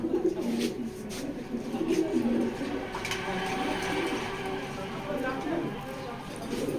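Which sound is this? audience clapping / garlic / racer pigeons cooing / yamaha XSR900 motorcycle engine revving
racer pigeons cooing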